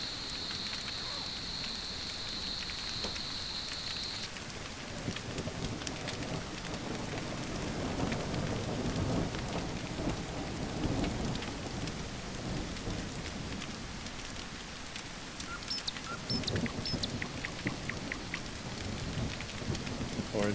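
Steady rain pours down in the video game No One Survived, with low thunder rumbling through a continuous dense hiss for about twenty seconds.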